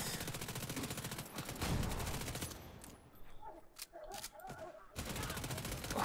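Video game combat with rattling bursts of gunfire and heavy explosive booms, loud at first, thinning into scattered pops and crackles before another dense volley.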